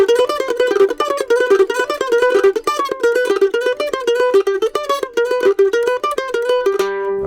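Slidey lick on a fretted string instrument, bright plucked notes in a quick steady run with sliding pitch, close and alone, ending on a held note.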